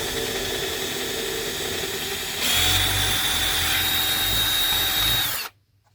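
A power drill bores through cardboard and a wooden baseboard, a steady whine that deepens and strains for a few seconds as the bit bites, then stops abruptly into silence.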